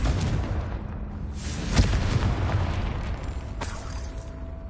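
Confringo fire spell cast in Hogwarts Legacy, a single sharp blast with a low boom near the middle, set against a steady rumbling game ambience and a fainter second burst later.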